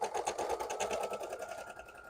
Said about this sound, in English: I have actually tongues being embroidered on the machine.